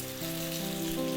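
Fish frying in a pan for Bengali fish curry, a short, steady sizzle with a faint low hum underneath.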